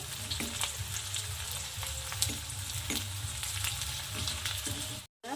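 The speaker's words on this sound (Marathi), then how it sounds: "बारीक कट केलेला कांदा कांद्याला छान ब्राऊन कलर होऊ द्यायचा आहे" Finely chopped onion fries in a pan, browning with a continuous, dense sizzle and occasional stirring clicks, broken by a momentary dropout near the end.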